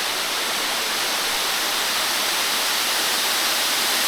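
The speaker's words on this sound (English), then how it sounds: "Finding this waterfall has been a real bonus. It's much smaller than the others" A small but tall waterfall pours with a steady, loud, broadband rushing roar that stays constant throughout, with no voices.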